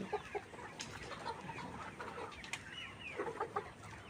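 Layer pullet chickens about eighty days old cluck nearby in a poultry shed, with short scattered calls and a few quick bursts over a low, faint background.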